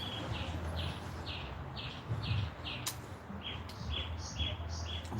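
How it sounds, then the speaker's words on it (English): Songbirds chirp outdoors in repeated short, bright phrases, fairly close, over a steady low background rumble with no talking. "The crows are down, so you actually hear songbirds, which is something you don't usually hear."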